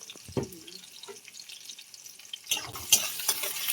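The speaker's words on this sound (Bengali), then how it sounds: "দুটো কাঁচা লঙ্কা দিয়ে দেবো।" Hot oil crackles and sizzles faintly at first, then bursts into louder spitting and popping as green chillies are dropped into the pan with onion and garlic.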